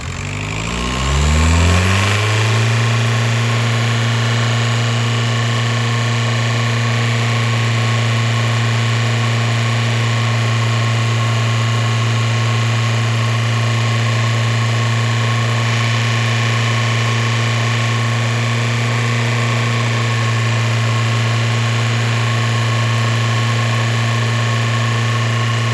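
A Volkswagen Jetta TDI diesel engine with an oil leak climbs quickly as it is revved, then holds a loud, steady, droning high idle with a constant hum, up close and with no voices.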